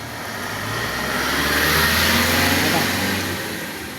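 Rusi motorcycle engine running on a wet road in the rain, a loud steady mid-pitched drone that swells and fades slightly, with a voice talking over it.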